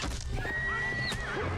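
Horses whinny in a short, loud neigh from a Rings of Power TV episode, with hooves clattering faintly beneath a dramatic soundtrack.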